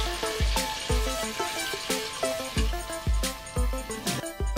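Chicken that has been browning with pickle sizzles and hisses as water goes into the pan, with steady frying crackle and repeated scraping or stirring strokes, close and alone without talk.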